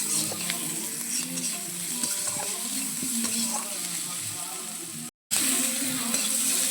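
Salted onions browning in a pan for a desi koi fish curry produce a continuous crackling sizzle with light stirring scrapes, broken by a brief moment of silence near the end.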